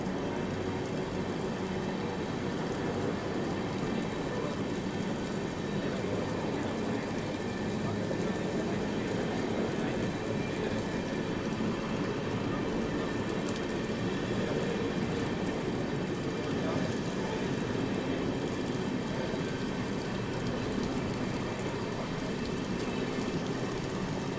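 Inside a Mahabodhi Express coach as the train accelerates, a dense, continuous rumble and rattle of wheels and carriage fills the scene at steady loudness, with voices in the background.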